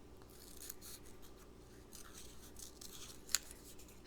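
Scissors snipping paper flower petals, soft close rubbing cuts with one sharper snip near the end, faint and unaccompanied by speech.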